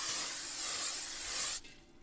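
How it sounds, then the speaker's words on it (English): A close, continuous hiss of a vegetable oil spray can coating the inside of a Weber Jumbo Joe grill dome runs for about a second and a half, then stops sharply, leaving faint room noise. "Spray the inside of the dome."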